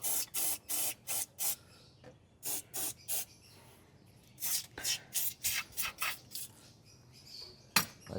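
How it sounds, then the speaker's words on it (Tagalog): Liqui Moly Marder anti-rodent spray puffed into the engine bay of a Mitsubishi, a series of short hissing bursts in two clusters with pauses between, close by and fairly quiet. "Tapos ito rin, Liquimoly Marder Spray."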